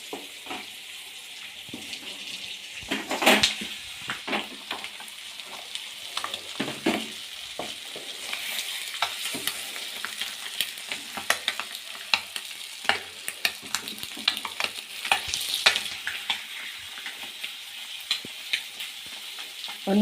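Eggs frying on medium flame in a pan for a simple egg masala, turned partway through: continuous close sizzle with scattered crackles and spatula scrapes and taps, no talking.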